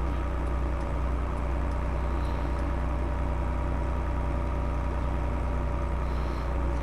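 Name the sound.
Fiat DT tractor engine in Farming Simulator 22 video game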